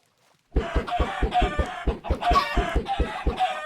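Rapid, rhythmic Minecraft chicken clucks repeat steadily for several seconds, loud and close, sounding somewhat synthetic, with no talking.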